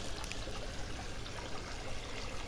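A small stream near Commensacq and Labouheyre in the Landes trickles steadily, a soft, even wash of flowing water heard faintly and close, with no voices.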